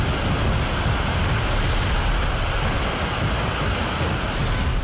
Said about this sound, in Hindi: धर्मशाला के पास गजगढ़ में पानी किसी बड़ी नदी की तरह बह रहा है।